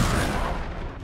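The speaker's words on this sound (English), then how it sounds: "and then all of a sudden it's just grenades" A grenade explosion in Uncharted 3, one loud booming blast that decays into a rumbling roar within about a second, alone.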